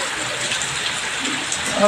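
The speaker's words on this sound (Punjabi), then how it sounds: "ਬਹੁਤ ਜ਼ਿਆਦਾ ਮੀਂਹ ਸੀ ਅੱਜ ਸਵੇਰ ਦਾ ਪੈਂਦਾ" Heavy morning rain pours down in a dense, steady hiss that fills the whole short stretch at an even loudness.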